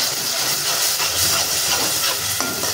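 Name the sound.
tomato chili paste sizzling in pan for mushroom masala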